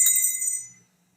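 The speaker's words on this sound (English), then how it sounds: "Would you agree this is a bell?" A single bright bell strike rings out close and clear, then fades to silence within about a second, with no one talking.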